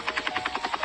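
Helicopter in a GTA 5-style open-world video game, its rotor beating in a steady rapid chop of about nine even pulses, close and loud with no talk.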